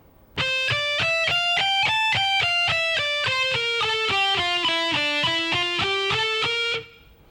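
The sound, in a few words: first part of a lick on electric guitar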